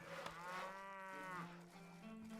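Cow mooing in the medieval strategy game Stronghold Crusader, a single drawn-out bovine moo that rises and falls over about two seconds, clear and close with no talk.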